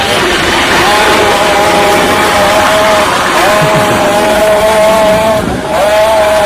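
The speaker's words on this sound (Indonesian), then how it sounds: "Gember-gember motor di jalan." Motorcycle engines on a street roar steadily and loudly, with sustained high-pitched revs holding and rising over a dense background of traffic and crowd noise.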